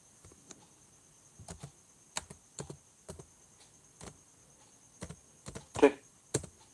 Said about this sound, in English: and then I type